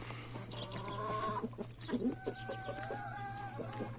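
Chickens, including a young rooster, cluck and murmur nearby in a chicken run with short, soft calls scattered over a steady low hum.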